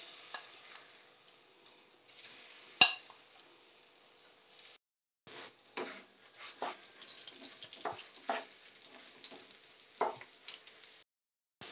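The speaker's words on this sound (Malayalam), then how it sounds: "ഇനി നമുക്കിതിൽ സോയ ചങ്ക്സ് ഒന്ന് ഫ്രൈ ചെയ്തിട്ടെടുക്കാം." Soya chunks sizzle as they fry in a pan for a Malayalam-style soya roast, with scattered crackles, stirring scrapes and one sharp clatter over a steady frying hiss, close and moderately quiet.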